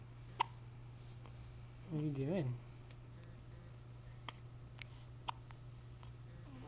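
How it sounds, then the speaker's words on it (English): A newborn baby hiccups on the first day home, giving a few faint, brief hiccups in a quiet room while an adult speaks softly and a short vocal sound rises in between. "Someone's got hiccups."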